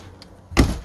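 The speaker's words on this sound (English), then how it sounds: "Let me shut the door." A 2001 Infinity 34-foot wheelchair-accessible RV door is pulled shut with a single solid thump near the end, preceded by a faint click, heard close with no talking.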